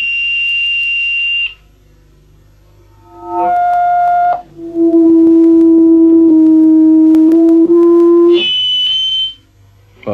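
Audio feedback shriek from a loudspeaker, held to set pitches by a filtering device in a 1979 electronic music demonstration: sustained piercing tones that switch between several steady pitches in long blocks, loud and with no one talking.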